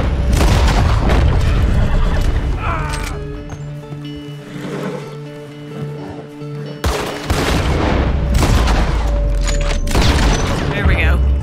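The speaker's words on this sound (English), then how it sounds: "I shot off his hat" A gunshot fired in the Red Dead Redemption 2 video game, knocking a man's hat off: several loud, sharp booming shots ring out over a busy game soundscape with horse sounds, and a steady tone runs underneath.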